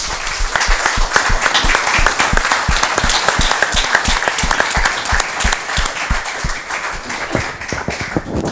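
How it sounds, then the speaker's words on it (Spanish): A Spanish-speaking audience at a literary event gives a sustained round of welcome applause, steady and fairly loud, with individual hand claps distinct throughout. "les voy a pedir un aplauso de bienvenida para ellos"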